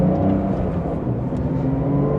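A Porsche engine pulling back up to speed with a steady, loud droning whir from inside the car, sustained throughout with no voices.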